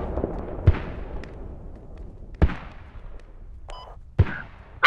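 Mortar rounds firing in the military shooter Squad, three or four sharp thumps spaced a couple of seconds apart with decaying rumbles, mid-distance and moderately loud over quiet ambience, with a short radio-like beep between shots.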